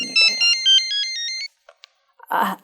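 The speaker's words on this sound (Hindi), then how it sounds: "ये फोन बज रहा है आपका जी" A mobile phone rings out loud and close with a bright electronic melody that repeats in short bursts for about a second and a half and then stops. A brief voice or rustle follows.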